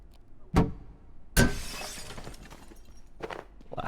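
Glass shatters in the video game Abiotic Factor: a short sharp crack, then a loud crash with tinkling shards that fade. A couple of smaller breaking bursts follow later.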